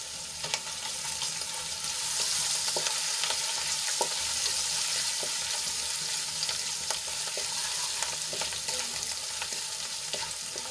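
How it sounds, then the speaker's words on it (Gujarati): Ginger, chillies and sesame seeds sauté in a pan with a steady, close sizzle, broken by occasional clicks and scrapes from stirring, with no talking. "હવે બધું સરસ રીતે સાંતળી લઈશું।"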